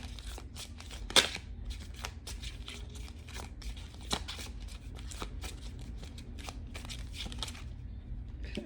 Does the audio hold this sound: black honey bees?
no